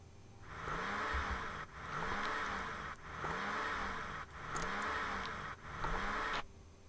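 A convertible car driving in The Movies video game, a steady engine drone that swells and cuts out in five repeating looped segments, each with a rising whine, no voices.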